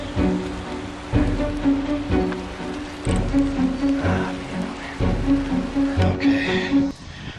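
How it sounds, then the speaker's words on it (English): Rain falls steadily outdoors along a trail, a continuous wash of patter with irregular thumps and rustles from movement nearby, no one speaking. "And now it's starting to rain."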